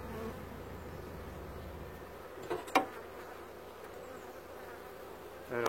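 Honeybees buzzing at an opened hive during a July honey harvest, a steady close swarm hum with individual bees passing near the microphone and a couple of brief louder bumps.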